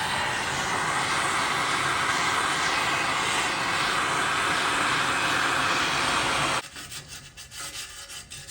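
A torch flame burning grime off brake parts from a 1970 Pontiac LeMans gives a steady, loud roaring hiss close by for about six seconds, then cuts off, leaving quieter scraping and rustling.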